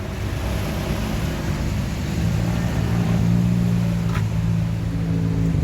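A Sempati Star bus diesel engine runs at a steady idle, giving a close, continuous low rumble that swells slightly partway through with no talk over it.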